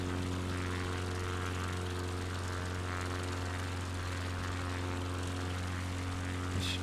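Propeller plane engine drones steadily in flight during an alpine bush trip in a flight sim, a loud constant low hum with strong tonal layers, unbroken throughout.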